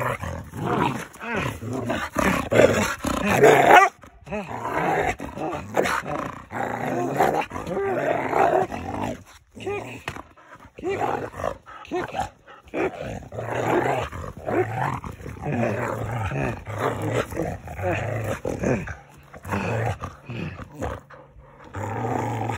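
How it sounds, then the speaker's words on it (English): A dog growls and snarls in rough bursts during a morning attack, with near continuous throaty rumbling and brief gaps, loud and close throughout. "Call off the dog."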